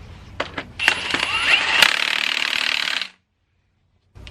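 An impact wrench drives the crank pulley bolt home on a Honda B20B engine being swapped into a 1992–95 Civic. It gives a few short taps, then one sustained loud rattling burst of about two seconds that stops abruptly, close up.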